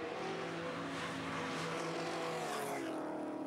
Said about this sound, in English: Flash of exhaust flame from the screaming BMW 2002 Turbo